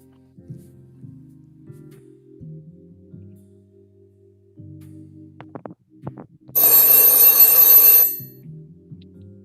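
A telephone bell rings in a detective agency office, one loud sustained burst of about a second and a half, with quiet low tones playing beneath.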